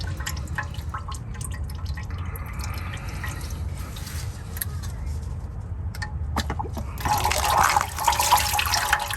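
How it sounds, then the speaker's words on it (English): Transmission fluid from a Lexus GX 460 drips and trickles into a drain pan beneath the vehicle, a steady liquid patter that grows heavier toward the end, with someone talking over it. "keep your oil pan right below you because some more oil is coming out, as you can see"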